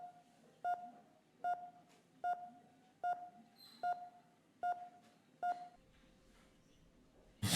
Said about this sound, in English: We want to keep hearing that beep.